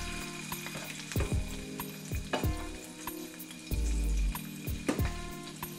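Seasoned, oiled ahi tuna slices sear in a hot pan, a steady loud sizzle broken by sharp knocks and scrapes of utensils, with a louder hiss surging midway, no talking.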